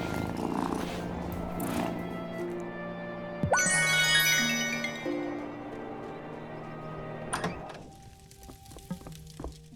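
A cat in the game Wylde Flowers purrs steadily over soft game ambience, with a thunk and a short jingle partway through.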